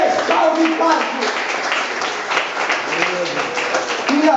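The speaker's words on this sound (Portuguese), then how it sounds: "Uma salva de palmas" A church congregation claps in sustained applause during a sermon, a dense, steady patter of many hands close by, with voices mixed in under the clapping.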